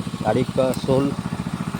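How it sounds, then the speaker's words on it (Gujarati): A farm engine runs beside a canal-irrigated field, giving a steady, rhythmic low chugging pulse at close range while someone talks over it. "અમારું એન્જિન ચાલે છે"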